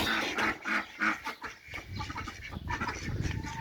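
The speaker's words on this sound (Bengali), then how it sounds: "এই যে এখানে হাঁস।" A duck on a farm in Kuwait quacks loudly in a quick burst of calls close by. Quieter, muffled farmyard noise follows.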